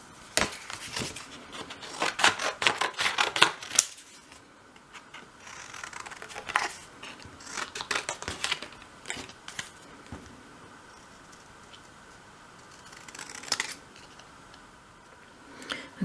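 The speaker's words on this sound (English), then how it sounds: "Okay, so cut those out." Scissors snipping out small pieces for a dolls house living room, with bursts of quick crisp cuts and paper rustle close up, separated by quiet pauses.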